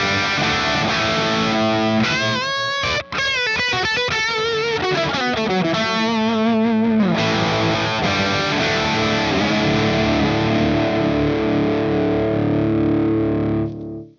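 Electric guitar runs through a Synergy SYN1/SYN2 modular tube preamp on its red channel, giving a heavily distorted, saturated modern tone: a fast run of riffing and bends, then a long sustained chord ringing out loudly to the end.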